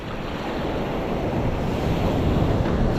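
Ocean waves roll onto a beach as a loud, continuous roar of surf that swells slightly toward the end, mixed with wind buffeting the microphone.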